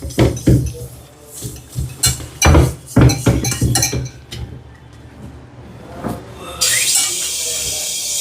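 A metal pot clanks and scrapes in irregular bursts as it is washed close by, ending with a rush of running water.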